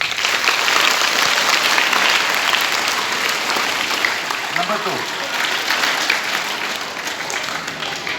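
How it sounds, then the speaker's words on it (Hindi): A village school audience claps for itself in a loud, sustained burst of applause that slowly eases toward the end, with scattered voices and a brief spoken word heard beneath it. "आप अपने आप के लिए ताली बजाएं।"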